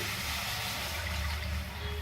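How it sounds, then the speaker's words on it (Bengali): Water splashes and rushes into a wok during cooking of a raw mango chutney, a brief, continuous gushing pour heard alone. "কড়াইয়ের মধ্যে দিয়ে দিচ্ছি জল"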